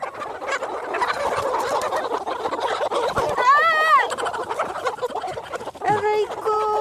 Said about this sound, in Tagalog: Oras na para manghuli ng mga manok.